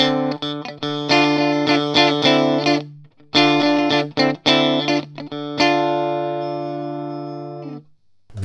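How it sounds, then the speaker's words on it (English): A dry electric guitar with no effects plays clean, ringing notes and chords in a few phrases, ending on a long sustained chord that slowly fades. "Just for reference, here's the dry guitar sound."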